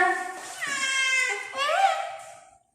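A cat lets out two drawn-out, whiny meows close up, the second rising and then trailing off into silence.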